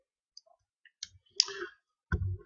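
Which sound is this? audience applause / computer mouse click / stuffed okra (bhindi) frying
computer mouse click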